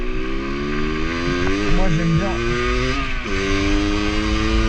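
A 50cc moped engine drones steadily at high revs while riding, bouncing off the rev limiter in neutral between gears, with a few brief rev dips; a person speaks over the continuous engine noise.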